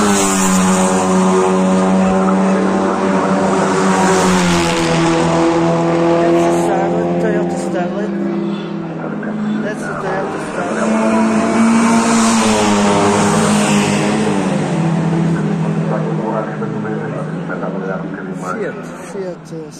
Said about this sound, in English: We can hear the cars roaring